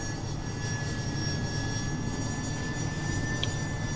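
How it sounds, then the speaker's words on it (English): Helicopter-like aircraft hovering in the video game Carrier Command Gaea Mission, a steady droning engine hum with a constant whine, continuous and even in level, with no speech. "a helicopter-like vehicle where it can just kind of hover in air"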